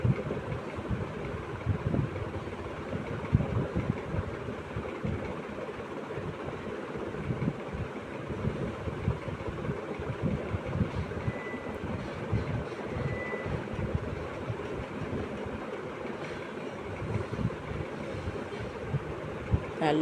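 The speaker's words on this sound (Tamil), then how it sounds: "போட்டு நல்லா வதக்கணும்." Egg gravy with pepper, masala and salt sautés in a pan, giving a steady close-up sizzle and hiss that runs unbroken for the whole stretch, with no talking over it.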